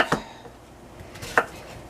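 Knife chopping butternut squash and sweet potatoes on a cutting board at home: two sharp, distinct chops about a second apart, close and clear over a quiet room.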